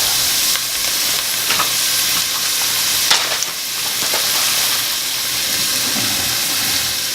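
Ground beef fries in a pot for all-meat chili, a steady loud sizzle with scraping stirring strokes and occasional sharper crackles running throughout.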